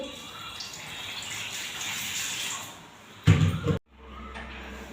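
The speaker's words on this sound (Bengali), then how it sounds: "এখন ভাত বসাবো ভাতের চালটা ধুয়ে নিচ্ছি" Rice grains are washed in water before cooking, giving continuous swishing and trickling close by. A louder splashing burst comes near the end, then a sudden drop to a quiet background.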